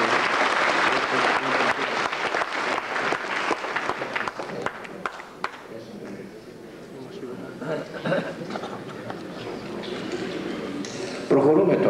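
Audience applause during a Greek Orthodox sermon on animals in 1995, a dense steady clapping that fades and thins into scattered claps and crowd murmur before a brief renewed burst.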